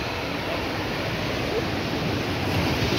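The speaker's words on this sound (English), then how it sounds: "Hastings Beach" Surf at Hastings Beach on the south coast of Barbados, a steady broadband wash of waves with a constant roar and no distinct breaks, heard alone without voices.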